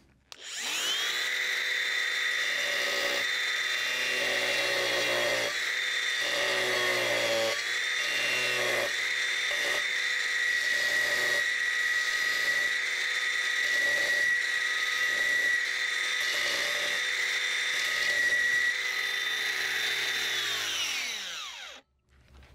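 A power tool grinds steadily through a roof tile, cutting a channel for a roof hook, loud and close for about twenty seconds with a sustained high whine and brief dips in load before winding down.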